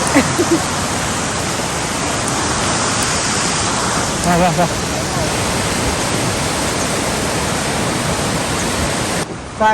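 Dense, steady rushing of heavy rain fills the whole stretch, loud and close, with a brief voice and a short dip near the end, in the Martvili Canyon area of Georgia.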